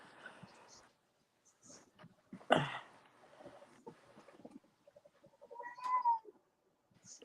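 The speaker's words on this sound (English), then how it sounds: "That kitty just said hello." A house cat meows a few times, fairly close, between and under people's casual talk and laughter.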